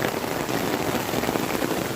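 Heavy rain at night in Chennai pours down continuously, a dense, even hiss of drops hitting surfaces close by, with no voices.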